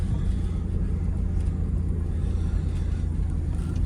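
A Nissan Hardbody pickup bought at auction pulls away on a test drive, its engine a steady low rumble with faint rattles close by, with no talking.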